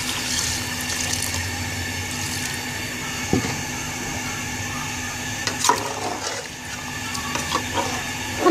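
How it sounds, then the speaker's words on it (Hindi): Water pours steadily into a pot of soaked rice being readied for biryani, a continuous splashing rush with a few small knocks and clinks near the end. "अब मैं इसमें ऐड करूँगी पानी।"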